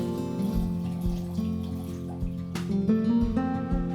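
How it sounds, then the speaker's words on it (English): Homemade podpiwek pours through a funnel into flip-top bottles, a close, gurgling liquid stream with bubbling glugs and shifting pitch as the bottle fills, with a few light clinks toward the end. "I pour the liquid, leaving a bit of headspace."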